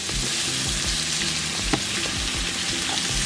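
Shrimp and other seafood frying in hot oil give a steady, close sizzle with crackling pops throughout, and nobody speaks over it.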